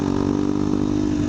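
A KTM Duke 200 motorcycle fitted with an Arrow aftermarket exhaust runs steadily, its engine throbbing at a constant loud rumble close to the microphone with no talking.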